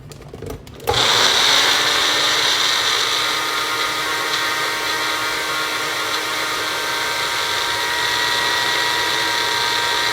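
A blender grinding oats into flour starts abruptly and runs loud and steady, a high whirring grind that holds constant for several seconds, with no voices.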